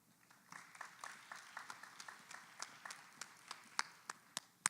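A small conference audience claps, starting thin and then settling into a sparse, uneven patter of individual hand claps, fairly faint and distant, with a few sharper claps standing out near the end.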